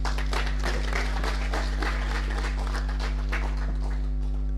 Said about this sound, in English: A round of hand clap.